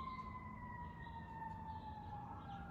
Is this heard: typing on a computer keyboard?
no